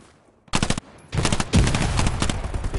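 Automatic gunfire in the Hell Let Loose World War II shooter game, with loud, rapid bursts of machine-gun fire that start suddenly and run almost continuously, layered with other shots close by.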